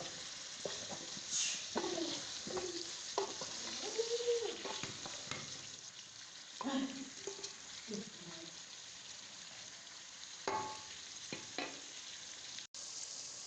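Onions and garlic frying in a pan while being stirred, a steady hiss of sizzling with scattered spoon scrapes and clatters, close and moderately quiet, no voices.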